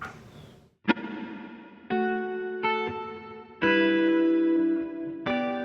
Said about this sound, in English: let's hear the reverb by itself